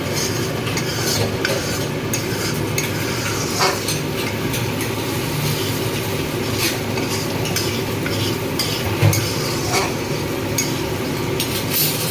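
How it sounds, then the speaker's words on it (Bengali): Meat sizzles and scrapes as it is stirred and fried down in a kadai pan, steady frying hiss with repeated spatula and utensil clinks throughout, close and continuous with no talking. "মাংসটা অনেকক্ষণ প্রায় হয়ে গেছে, কষাচ্ছি, আর একটু কষবে।"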